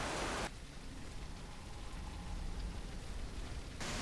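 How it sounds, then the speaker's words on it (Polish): Heavy downpour in a video game featuring raptors: a dense, constant hiss of rain, louder bursts at the very start and end framing a softer steady patter in between, with no talking. "Dobra, jest mega ulewa."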